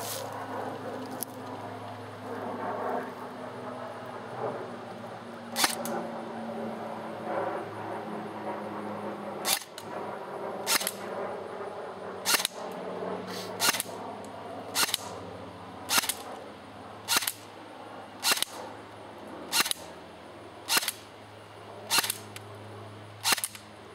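An SR-15 AEG airsoft rifle firing BBs through a chronograph in single shots, a series of sharp clacking pops spaced about a second apart, growing more regular, close and clear over a low background hum.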